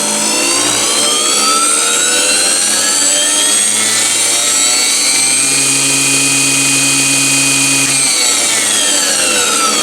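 A 9x20 lathe motor spins up, its loud, continuous whine climbing in pitch, holding steady, then easing slightly, with no voices over it.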